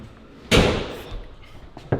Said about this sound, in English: Did he shut the door?